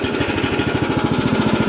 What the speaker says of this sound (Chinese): 然后呢拉绳启动